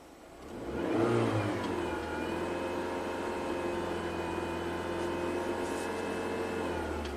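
A PT Cruiser engine with a power fault and no boost revs up within the first second, then settles into a steady, slightly wavering idle as its RPM shifts. The running note is close and continuous, with no voices.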